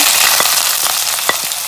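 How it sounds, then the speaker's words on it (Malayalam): Crushed onion dropped into hot oil with popping mustard seeds for fish curry, a loud close hiss of frying with a few light scraping stirs. "ഇനി നമുക്കതിലേക്ക് ചതച്ച് വെച്ചിരിക്കുന്ന സവാള ഇട്ട് കൊടുക്കാം."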